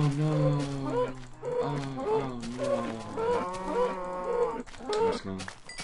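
Cows moo in Minecraft: several long, loud, close moos follow one another with little pause, overlapping at times, with no talking.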